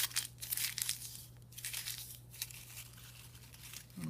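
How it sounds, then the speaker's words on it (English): Wadded-up paper is crinkled and crushed in short bursts of dry rustling, close by and moderately quiet, with brief pauses between handfuls and a faint steady hum underneath. "Now I'm going to take this paper that I wadded up"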